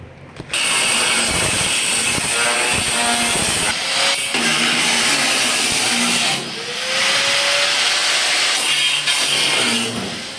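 Harsh, steady grinding and hissing of a cutting tool slicing through a rusted kick panel on a 1966 Ford Bronco, running loud with brief pauses and pitch shifts as the blade bites the metal.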